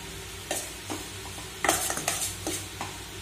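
Masala paste sautéing in a pan for Tamil egg gravy, with soft sizzling under several scraping stirs of a utensil against the pan.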